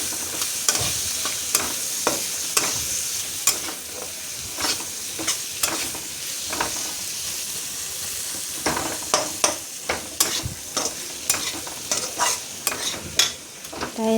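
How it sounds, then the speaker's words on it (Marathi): Chopped onions fry in a pan while being stirred, a steady close sizzle broken by frequent scraping stir strokes that grow busier toward the end. "सगळं मिक्स करून घेते मस्त."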